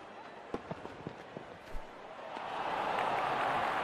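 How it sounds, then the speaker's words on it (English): Virtual stadium crowd in the cricket video game Real Cricket 22 swells into a broad, rising cheer after a few sharp taps and thuds, growing louder and holding steady at the end. "The crowd is enjoying every bit of this action."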